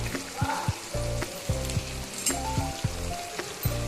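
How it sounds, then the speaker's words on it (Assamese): Rice with yogurt fries in a pan with a steady close sizzle, broken by repeated scraping stirs and soft clinks of a utensil against the pan. "এতিয়া গোটেইখিনি ভালদৰে ফ্ৰাই কৰি লৈছোঁ"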